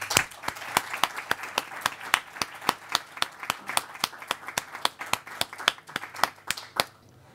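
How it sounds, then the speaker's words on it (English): Audience applause welcoming a guest economist to the stage at a formal public lecture in Barcelona: a modest hall of steady, distinct hand claps, fairly near, with no talk over it, stopping abruptly near the end. "I would like you to welcome him with a very warm applause."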